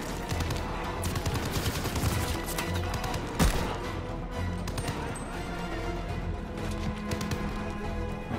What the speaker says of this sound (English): I hear gunfire, but I don't see him just yet.